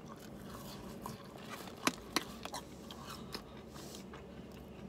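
McDonald's waffle fries from the J Balvin meal being bitten and chewed close up, a few sharp crunchy bites standing out over quiet, soft mouth sounds.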